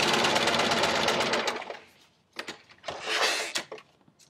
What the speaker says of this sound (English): just take a second and play around on some scraps so that you can see how the machine sews